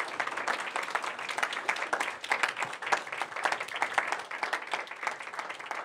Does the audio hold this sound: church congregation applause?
yes